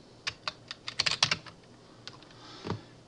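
Keystrokes on a computer keyboard as a username and password are typed, about a dozen close, clicky taps in quick bursts with a brief pause before a final few, alone and fairly near.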